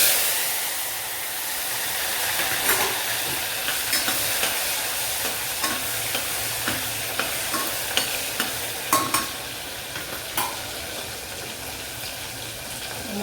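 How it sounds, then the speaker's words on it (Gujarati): Finely chopped tomatoes dropped into hot oil with a pinch of asafoetida for a Kathiyawadi brinjal and potato curry, frying with a continuous soft sizzle and repeated scraping stir strokes close by. "આપણે વઘારીશું એમાં ઝીણા સમારેલા ટામેટાં"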